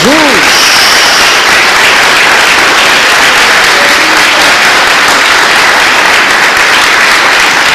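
A church congregation gives loud, sustained applause for Jesus, a dense roar of many hands clapping that fills the space evenly and stays strong throughout.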